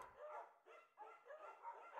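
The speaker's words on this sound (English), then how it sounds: "There's a scruffy, undersized beagle." A scruffy, undersized beagle in the video game Firewatch gives a quick series of faint barks and yips, about four short bursts close together, with no talk over them.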